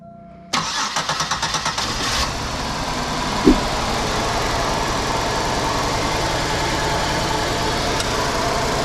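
A 2005 Buick Park Avenue engine with a random misfire cranks with a rapid rhythmic starter chug for about two seconds, then catches and settles into a steady, loud, close idle that continues to the end.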